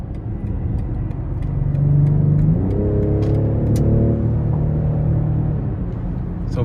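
A 2023 BMW X6 xDrive40i M Sport with its 3.0-litre turbo six accelerates hard in sport mode onto an interstate, the engine note rising steadily and then stepping up after a shift into a loud, sustained close-up roar.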